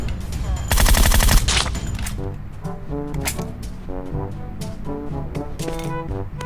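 Gunfire in PUBG Mobile: a loud, close burst of rapid automatic shots, followed by sparser single cracks and more distant shots, with a player talking over the game sounds.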